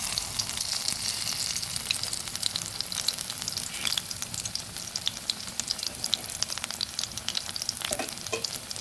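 Banana flower pakoras frying in hot oil, a dense, constant crackle and bubbling heard close and loud for the whole stretch, with no voices.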